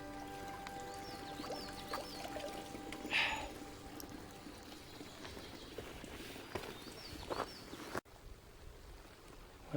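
Fresh spring water runs outdoors in nature, a steady close pouring and trickling wash that carries through the whole stretch, with a few brief brighter splashes and no talking.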